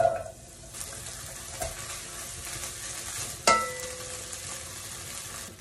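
Dried anchovies and spices sizzle in hot oil in a pan for mung bean stew with alugbati, with steady frying crackle and stirring scrapes, plus a sharper clatter midway.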